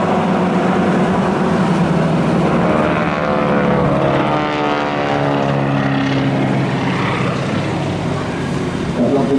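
Breitling Wingwalkers propeller biplanes flying past at the Rhyl airshow, with a loud, droning engine roar close by. The pitch sweeps downward as the aircraft pass, and the roar stays strong throughout with no speech over it.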